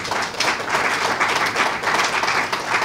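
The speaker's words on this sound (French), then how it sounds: "Je voudrais que vous l'applaudissiez." Audience at a book launch breaks into sustained, fairly loud applause for an author, dense overlapping clapping filling the room evenly from start to finish.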